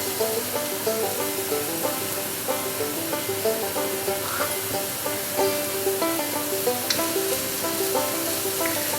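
Onion, celery, thyme and basil fry in a wok with a continuous close sizzle, broken by faint, regular clicks and scrapes of stirring.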